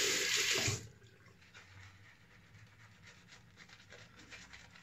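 Water gushes loudly from a tap for under a second, then cuts off, leaving faint splashing and wet lathering sounds of shaving cream at low level.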